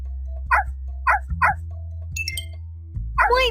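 Cartoon puppies in a Dora the Explorer game let out several short, bright yips and barks in quick succession over a steady low game hum, with a brief chiming sparkle in between.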